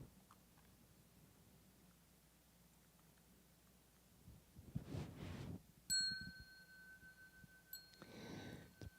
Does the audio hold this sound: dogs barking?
no